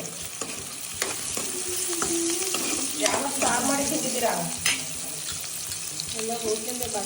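Spice tempering for a Karwar-style prawn curry fries in hot oil, a loud crackling sizzle with repeated stirring clinks and scrapes in the pan, while someone talks over it.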